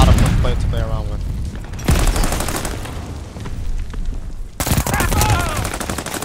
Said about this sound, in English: this machine gun pistol is a lot of fun to play around with.